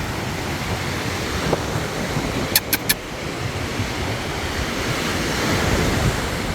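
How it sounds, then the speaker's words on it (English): Waves wash steadily onto the shore of a lake on a windy day, a dense, continuous roar mixed with gusting wind noise and a few faint clicks. "I didn't even think about the fact that there was going to be waves."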